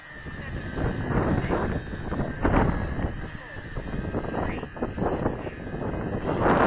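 Gusty wind of about 10 to 12 mph buffets the microphone outdoors while an XK K110 toy RC helicopter flies, a steady broadband roar with rising and falling gusts throughout, loud and close.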